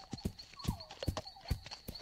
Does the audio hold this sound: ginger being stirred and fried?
no